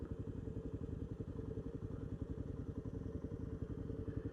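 KLR 650 motorcycles idle and pull away at a lookout on a very hot day, a faint, steady, low engine chug with rapid regular pulses and light clatter, heard from some distance.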